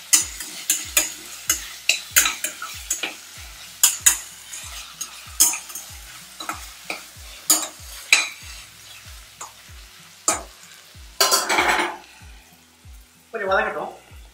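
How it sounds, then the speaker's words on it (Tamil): Green chilies sautéing in a pan for prawn biryani: a spoon scrapes and stirs in a steady rhythm over a sizzling fry, close and fairly loud, with bursts of stronger sizzle near the end. "வதக்கும் போது ஒரு 5 பச்சை மிளகாய் போட்டேன், போட்டு வதக்கிறேன்."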